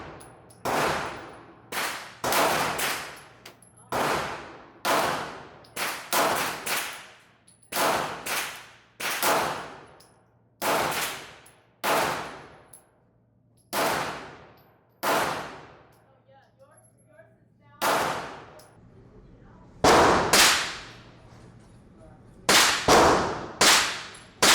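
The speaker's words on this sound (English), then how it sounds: "I'm gonna do one more, but with the pistol" Sig 9mm pistol fired at a shooting range: about two dozen sharp, loud cracks in irregular bursts and single shots, each with a short ringing decay, and a few quiet voices between them.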